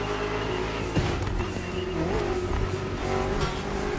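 A BMW M CS car drives with a steady engine drone and some rising revs, close and loud throughout.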